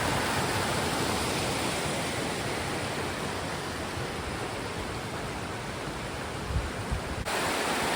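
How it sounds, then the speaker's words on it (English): Roughlock Falls, a big waterfall near Spearfish, roars as a steady, dense rush of water that holds even and unbroken for the whole stretch, with a few faint knocks near the end. "there's the big waterfall back there"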